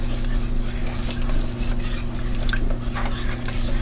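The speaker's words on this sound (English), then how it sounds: "Let's give this a stir." Sugar being stirred into cake batter in a bowl for a white Texas sheet cake, a soft continuous scraping and squishing over a steady low kitchen hum.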